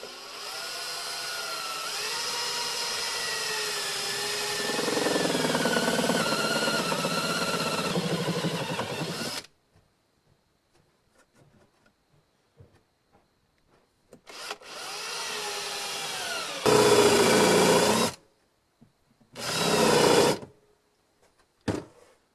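A hand drill bores extra holes into guitar body wood, a steady whirring grind for several seconds, then a few shorter separate bursts of drilling with quiet pauses between them.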